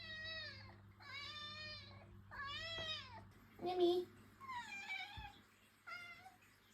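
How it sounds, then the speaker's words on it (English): A pet cat gives a series of drawn-out, moaning complaint meows, several wavering cries in a row at close range, with a person briefly speaking between them. "that is moaning complaint meow"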